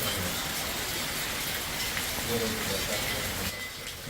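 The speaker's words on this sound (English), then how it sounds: "It's raining quite hard right now. It's overflowing the gutters." Heavy rain pouring down and overflowing the gutters, a dense, steady hiss of water with some splashing, continuous and fairly close, easing slightly toward the end.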